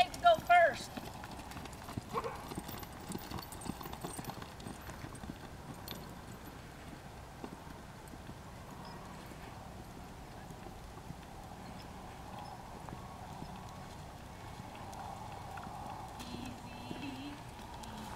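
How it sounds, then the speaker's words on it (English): A horse moves in a fox trot gait with faint, fairly close hoof clip-clops, clearest at the start and then fading, while a person talks quietly. "Picking her up into that little fox trot."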